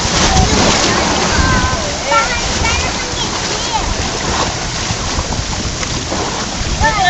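Rushing water at the Amazon Express raft ride churns and splashes continuously up close, with excited voices of people talking over the steady roar.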